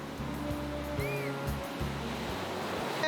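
East Sea waves break steadily on the shore in a continuous wash of surf, heard from nearby with no voices over it.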